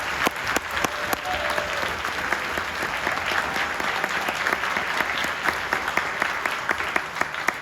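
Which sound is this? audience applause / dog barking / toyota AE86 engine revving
audience applause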